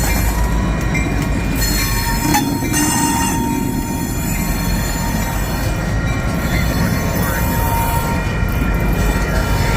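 A Union Pacific freight train led by locomotive 1655 rolls past close by, loud and continuous, with wheels squealing on the rails and a rhythmic clatter of cars.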